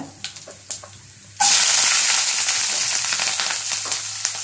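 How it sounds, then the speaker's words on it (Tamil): Shallots, green chillies, garlic and dried chillies hit hot oil with a sudden loud sizzle that holds steady and bright, after a few quiet taps from before they go in. "சின்ன வெங்காயம் பச்சை மிளகா பூண்டு காஞ்ச மிளகா எல்லாம் போட்டுக்கோங்க"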